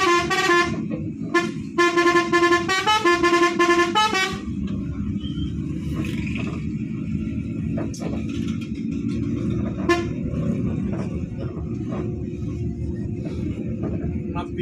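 Telolet bus horns play a loud, melodic sequence of musical toots in the first few seconds, then fall silent, leaving steady engine rumble and road traffic noise with a few faint distant honks.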